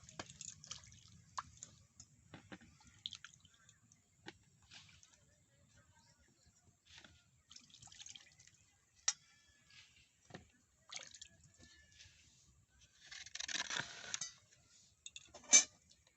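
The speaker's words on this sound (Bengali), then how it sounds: "খোসা ভালো করে ছাড়িয়ে নিয়েছি এইবারে আমি ভালো করে ধুয়ে নেব" Peeled sweet potatoes being washed in water by hand, with soft intermittent splashes, drips and squishy handling sounds, quiet and close, with a louder burst of water movement near the end.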